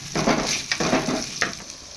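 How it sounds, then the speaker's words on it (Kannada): Onions frying in oil with ginger garlic paste for gobi manchurian, a steady close sizzle broken by a few brief stirring scrapes, with no voices. "ಎಣ್ಣೆ ಹಾಕ್ಕೊಂಡು ಇದು ಚೆನ್ನಾಗಿ ಫ್ರೈ ಆದ ನಂತರ ಈರುಳ್ಳಿ ಹಾಕ್ತಾಯಿದ್ದೀನಿ ಇದು ಕೂಡ ಚೆನ್ನಾಗಿ ಫ್ರೈ ಆಗಬೇಕು"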